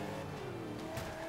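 A truck driven in the racing game Forza Motorsport 5 gives off a continuous engine drone with tire noise and a rising revving tone, steady and close with no talk over it.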